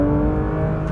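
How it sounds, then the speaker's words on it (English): A 2022 Porsche 911 GT3 engine howls at high revs on a race track, a loud, steady, tonal roar held throughout without any talking. "Listen to that engine."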